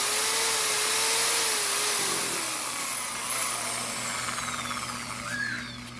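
Power drill spinning while polishing an overheated wall fan part, a steady whining motor tone that drops in pitch and fades mid-way, continuing more quietly with gritty friction.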